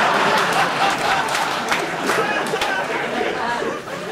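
A comedy club audience breaks into clapping and chatter, with women in the crowd responding. The applause is steady and close at first, then fades a little near the end amid crowd babble.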